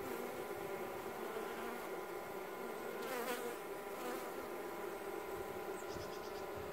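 A dense, continuous hum of many honey bees buzzing up close at a hive, droning steadily without a break.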